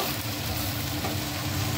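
Eggplant frying in a pan with potatoes and turmeric, giving a steady close sizzle with soft stirring scrapes throughout, no voices.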